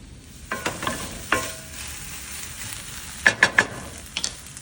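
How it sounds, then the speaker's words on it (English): Onions cooking in a pan for sloppy joes, a low steady sizzle broken by several sharp scraping stirs and clatters of a utensil against the pan, including a quick run of three, with no talking. "we want to cook those until the onions are just translucent"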